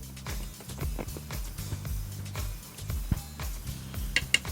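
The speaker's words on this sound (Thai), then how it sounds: "เอาช้อนมาตวงสิครับ ช้อนโต๊ะแบบนี้นะ" A metal tablespoon clinks repeatedly against a pot or bowl while sauce is measured out for a Japanese-style baked rice dish, the small knocks coming close and quick, with a few sharper taps near the end.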